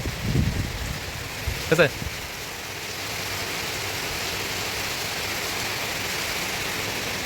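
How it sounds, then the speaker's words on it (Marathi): Heavy evening rain pours steadily outdoors as a broad, even hiss throughout, with a voice speaking briefly near the start. "पाऊस आलाय बघा भरपूर"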